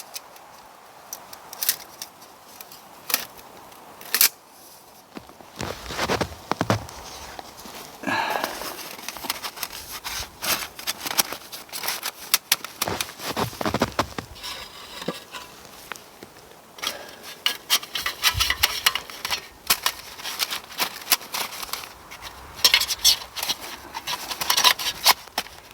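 A titanium folding camp stove is folded up and handled: scattered light metallic clicks, taps and rattles come close and fairly quiet, spaced irregularly across a long stretch with quiet gaps between.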